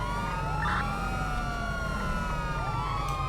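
Several wailing police sirens in a GTA video game rise and fall together over a low engine rumble, loud and continuous, with no talking.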